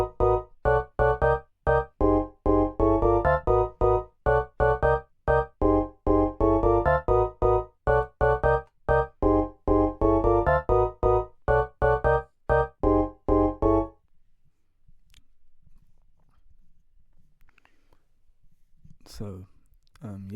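A house music pattern built in FL Studio pounds out steady, rapid pulses of layered tonal hits with a deep low end for about fourteen seconds, then stops abruptly, leaving near silence with a few faint scattered sounds.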